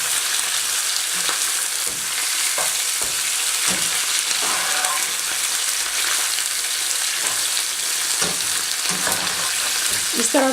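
Meat dropped into onions frying to light brown for Afghan Qabuli palao, a loud continuous sizzle with repeated stirring scrapes and knocks throughout.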